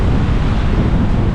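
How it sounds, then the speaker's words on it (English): Strong seaside wind at a jetty on a blustery morning, a loud, continuous rushing buffet across the microphone with a low rumble of water beneath. "It's a bit of a windy old morning"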